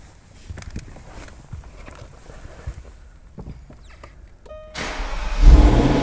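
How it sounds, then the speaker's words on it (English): A 2012 Jaguar XKR engine starts and swells into a loud, close rev near the end, after a few seconds of quiet shuffling and handling noises. "I'll go ahead and hop in it and rev it for you real quick so that you get a good idea of what it sounds like"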